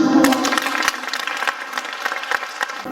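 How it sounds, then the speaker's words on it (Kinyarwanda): A church congregation at a parish gathering breaks into close, dense applause, many hands clapping together steadily for the full three seconds. "Amashyi menshi"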